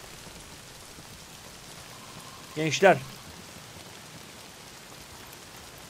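Steady rain hisses down across an open scene in the video game Days Gone, a soft even wash through the whole stretch, briefly broken by a short spoken word near the middle.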